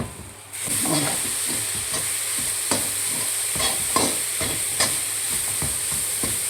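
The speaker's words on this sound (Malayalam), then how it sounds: "ഒന്ന് ഇളക്കാം" Leafy-greens thoran made from ten kinds of leaves sizzles in a pan as it is stirred, with a sudden jump to a steady frying hiss followed by repeated soft scraping strokes, close and with no speech.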